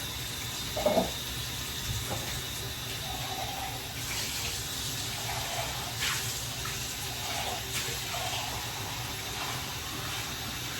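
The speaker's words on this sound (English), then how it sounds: "I am going to come over and I'm going to get me a cup of water." Tap water runs steadily into a cup in a home kitchen, a soft continuous hiss with faint clinks of the cup, heard close and alone.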